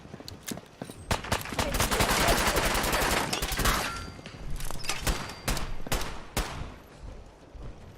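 Rapid bursts of gunfire from the Fallout 4 video game, crackling in dense overlapping volleys that swell in the middle and thin into scattered separate shots toward the end.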